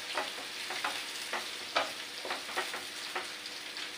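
Onions fry in a pan with a soft steady sizzle, broken by repeated scraping stirs of a spatula that come every half second or so, fairly quiet and close.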